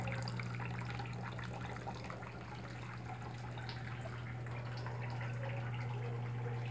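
Water spills steadily from a cascade and jars into a grotto shrine's basin, a continuous splashing trickle heard close over a constant low electrical hum, with no talk.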